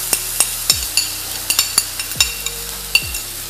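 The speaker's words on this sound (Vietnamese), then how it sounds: "Chúng ta sẽ xào nghêu nhanh, thật là nhanh" Clams being stir-fried fast in a pan with fried garlic, a steady sizzle broken by quick metallic scrapes and clanks of a utensil against the pan, close, with no talking.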